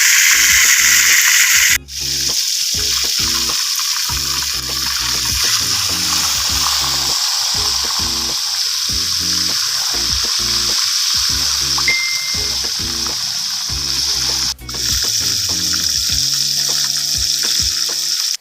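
A whole garlic chicken deep-frying slowly at low temperature outdoors: a loud, continuous crackling sizzle, close and steady, broken by two brief sharp cuts, with no one talking.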